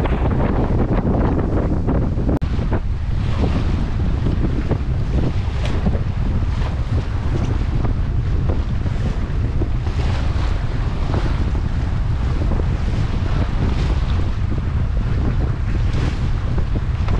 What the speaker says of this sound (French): avec 15 nœuds de vent d'est dans la tronche, je le sens passer